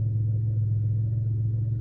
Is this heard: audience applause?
no